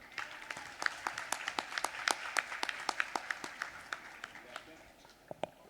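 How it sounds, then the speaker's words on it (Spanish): An audience at a talk on burns applauds, a brisk patter of many hands clapping that is strongest early on and then thins out to a few scattered claps. "Fuerte el aplauso, por favor"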